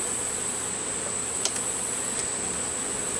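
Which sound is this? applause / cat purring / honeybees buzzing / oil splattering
honeybees buzzing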